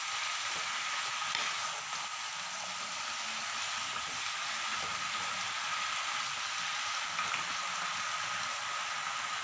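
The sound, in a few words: stirring Malabar spinach curry in pan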